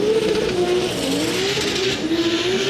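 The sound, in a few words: drift cars battling on Falcon tires, Formula Drift Texas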